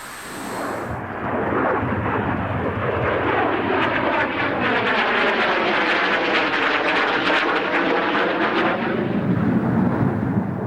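A Cessna A-37 jet at an Australian airshow roars past loudly and steadily for about ten seconds, with a broad, sweeping whine that rises and falls as the aircraft passes, heard alone without any talking.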